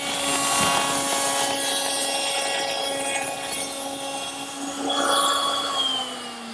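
A power driver whirs steadily for several seconds, driving screws to secure the lapped top frame of a barrister bookcase onto its carcass in a woodworking shop, with the motor pitch shifting slightly near the end.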